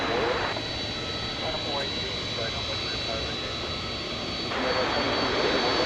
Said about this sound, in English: This is UPS flight 793, a 767,